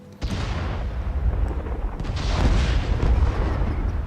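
Big Ben exploding in the video game Assassin's Creed Syndicate, set in London: an abrupt, loud, deep roaring blast that rumbles on continuously, swelling again midway without dying away.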